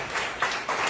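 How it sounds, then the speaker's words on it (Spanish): Congregation clapping in a church service, a few short bursts of applause rising and falling, moderately loud and close. "Den un aplauso al Señor por eso."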